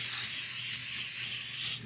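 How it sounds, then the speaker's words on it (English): A continuous close hiss of an olive oil aerosol spray on air-fryer chips, held for nearly two seconds, then cutting off abruptly. "spray them again"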